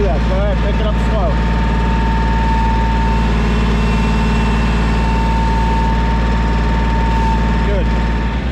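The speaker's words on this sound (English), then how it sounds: "this is a small, compact tractor, utility tractor" Small compact utility tractor engine running steadily up close, a loud continuous droning hum with a low throb, with a voice speaking briefly over it at the start.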